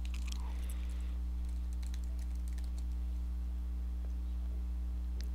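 Keys tapped on a Chromebook keyboard, a quiet run of light clicks spread unevenly over a few seconds above a steady low electrical hum, with no voices.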